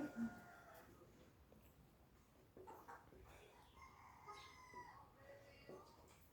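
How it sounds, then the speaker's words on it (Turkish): A rooster crows somewhere far off, faint and drawn out beneath a busy background of murmuring voices and outdoor noise. "Bu ötüyor, aşağıdan bir horoz ötüyor."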